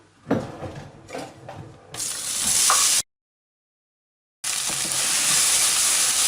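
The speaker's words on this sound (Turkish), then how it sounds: "Ve yemeklik doğradığımız diğer kuru soğanı kavuralım." Chopped dry onions sizzle and hiss loudly in hot oil after a few light clatters, with the frying cutting out briefly before resuming.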